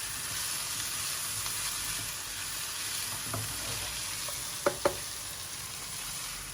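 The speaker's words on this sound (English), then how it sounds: "we'll give it a stir around quickly, and then take it out of the wok" Ingredients stir-fry in a wok for a spaghetti ragu. A constant, steady sizzle runs the whole way through, with a few soft scrapes and two sharp clacks of the utensil against the pan near the end.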